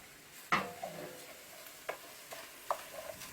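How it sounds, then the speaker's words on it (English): Rice and mushrooms with onions being stirred in a pan for risotto, a few scattered scraping knocks of a spoon against the pan over a soft sizzle, close but quiet, no speech. "I'm going to put the rice in first and give it a stir round"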